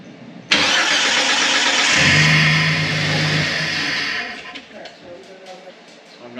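A car engine cranks and fires abruptly, then runs at a loud steady idle with a strong rushing air-intake roar that settles and quiets after a few seconds.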